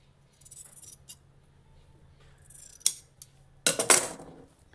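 Scissors cut down the middle of a blouse back piece of fabric in a few quiet snips, followed by a louder burst of sharp cutting near the end.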